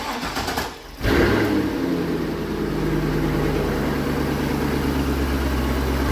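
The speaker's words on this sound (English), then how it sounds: "Go ahead and fire it up. Let's see what it sounds like." A C5 Corvette V8 with freshly replaced engine mounts cranks and fires after a brief quiet gap, then settles into a loud, steady, rumbling idle that runs on without pause.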